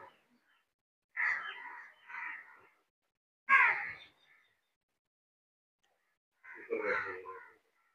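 Crows cawing at a Hindu temple in Nagarparkar in the Thar desert, three separate harsh, rasping calls spaced a couple of seconds apart, clear and fairly near, with quiet between them and no voices.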